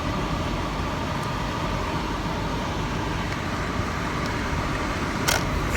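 Steady road traffic rumbles close by while idling behind a bus in heavy congestion on Morse Road, a continuous broadband wash of engine and tire noise with a brief brighter hiss near the end.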